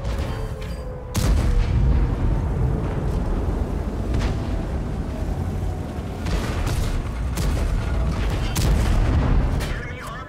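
Deep, loud tank cannon booms in a tank battle game. The first shot strikes sharply, and several more reports follow over a steady rumbling engine and battlefield din.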